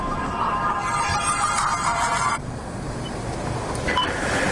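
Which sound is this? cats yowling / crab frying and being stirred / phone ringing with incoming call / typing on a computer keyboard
phone ringing with incoming call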